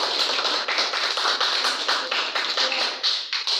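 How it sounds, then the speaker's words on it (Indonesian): Students in a classroom applaud a presenting group, a burst of quick, irregular hand claps and taps that stay fairly close and loud for a few seconds, with no talk over them. "berikan tepuk tangan untuk kelompok satu"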